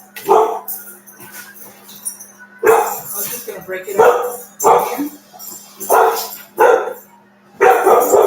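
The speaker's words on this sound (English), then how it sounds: "My dog again." A pet dog barks repeatedly at close range in a kitchen while a steak and mashed potato meal is being prepared, sounding about seven sharp, loud barks in irregular bursts, with someone talking between them.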